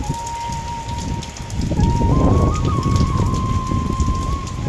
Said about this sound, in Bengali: প্রচুর পরিমাণ বৃষ্টি হচ্ছে সকাল থেকে, যা বলার বাইরে।